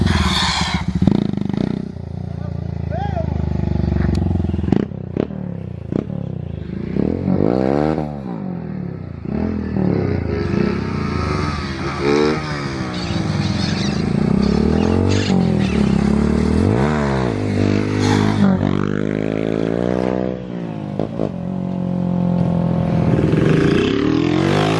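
A Honda Titan 160 motorcycle engine revs repeatedly, climbing and falling in pitch as it accelerates, loud and close throughout with a rough, clattering tone and no pause.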